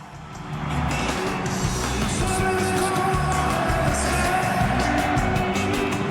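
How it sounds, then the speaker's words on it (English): A packed stadium crowd sings along with a Mexican rock band at a World Cup opening ceremony, a dense, loud, continuous roar of massed voices over amplified music for about six seconds. "I want you to hear the stadium sing along"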